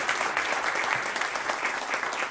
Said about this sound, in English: a massive applause for the city of San Antonio